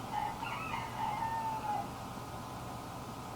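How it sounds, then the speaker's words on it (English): Roosters crow in the background, with drawn-out calls overlapping in the first two seconds. The calls are moderately distant, and a steady low rumble runs beneath them. "Sorry about the roosters."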